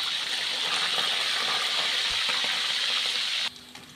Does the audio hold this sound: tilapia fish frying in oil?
yes